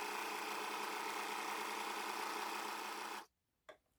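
An overlocker runs at a steady, even whir as it sews a thread chain, then cuts off abruptly after about three seconds, followed by one short mechanical tap.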